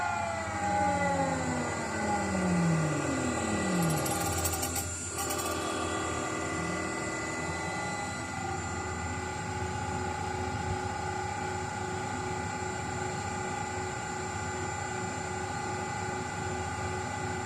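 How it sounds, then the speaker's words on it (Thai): A 1 HP inverter-driven gear motor with 1:6 reduction, running at 233 rpm, hums steadily with high tonal whines. The pitch sweeps down at the start, then settles into an even mechanical drone with a brief rattle. "ตัวนี้เป็นส่วนของมอเตอร์ ตัวนี้เป็นส่วนของเกียร์นะครับ เรียกโดยรวมว่ามอเตอร์เกียร์นะครับ"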